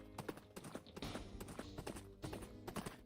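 A horse mount in the video game Wynncraft trots with rapid, steady clip-clop hoofbeats, moderately loud and continuous throughout with no talking.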